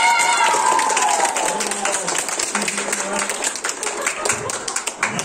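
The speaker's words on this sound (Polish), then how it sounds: "Także ogromne brawa dla Agaty." Applause from a talent show audience in Suchedniów, dense clapping that stays loud throughout while a presenter's voice carries over it.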